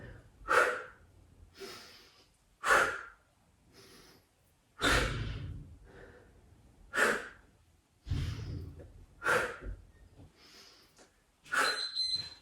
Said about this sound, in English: Try and breathe in through the nose, out through the mouth if you can. Inhale up, exhale, twist. Nice noisy exhales.